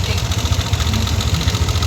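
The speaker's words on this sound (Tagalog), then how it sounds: "Yan yung tunog ng makina kanina." Yamaha NMAX V1 scooter engine idling with a loud knocking fault, a steady, rapid, low mechanical chatter that is close and dominant, with no one talking.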